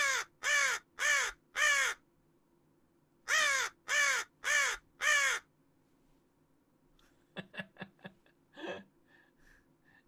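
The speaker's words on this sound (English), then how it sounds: "now this is the crow call for Vikings" Two bursts of four loud, evenly spaced caws form the crow call signal for the Vikings in a strategy game, followed by fainter short clicks and a brief huff, with no talk.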